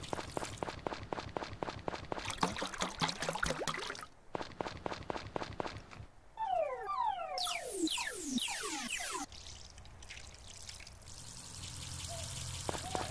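Watering crops with a watering can in the farming game Story of Seasons: Friends of Mineral Town, with repeated pouring and splashing bursts alternating with footstep-like rhythmic ticks and game chimes, fairly loud and steady.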